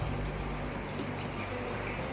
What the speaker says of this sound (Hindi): तो अब इसमें हम पानी ऐड करेंगे।